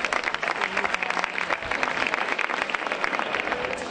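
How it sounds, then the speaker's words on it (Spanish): An audience at a grape harvest festival in Villafranca de los Barros claps for a colonel, a dense, even burst of applause lasting throughout, fairly close and without cheering. "Un fuerte aplauso para el coronelo."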